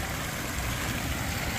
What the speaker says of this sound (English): Here's this water fountain.